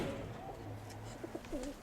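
Vaccinated domestic pigeons coo softly in a loft, several low rolling coos repeating over a faint steady background hum, fairly close but quiet, with no speech.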